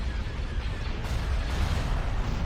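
Continuous heavy rumbling barrage of flak cannon fire in the Star Wars Empire at War strategy game, a dense, steady low roar without distinct separate shots throughout.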